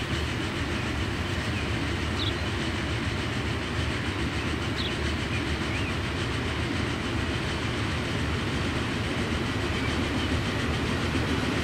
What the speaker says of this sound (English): There is another train. That is a train carrying some planks and some wood.